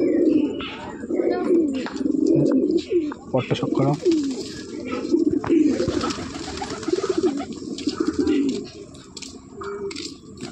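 Old-generation Giribaj pigeons of the Jira Napta line coo in rolling, repeated bursts close by, with brief chirps mixed in and someone talking over them now and then.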